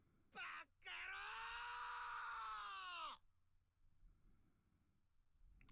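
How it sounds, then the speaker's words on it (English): A male character named Sugiyama screams in a Japanese visual novel at a sunset sea, one brief cry cut short, then a long strained wail of nearly three seconds that bends downward and stops abruptly. "Sugiyama's scream, drawn forth from the depths of his soul, echoes across the shimmering surface of the sunset sea"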